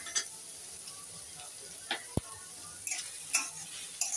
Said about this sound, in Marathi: याला चांगलं फ्राय करून घ्यायचं.